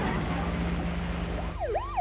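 Police and emergency vehicle sirens in a high-speed pursuit: a steady engine-like roar with a low tone, then a wailing siren sweeping up and down several times, moderately loud.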